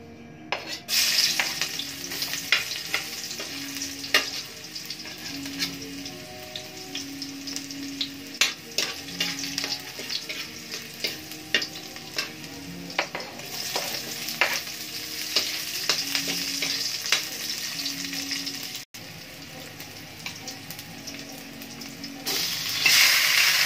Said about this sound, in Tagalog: Magigisa na tayo ng manok.